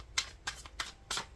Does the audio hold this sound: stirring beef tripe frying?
no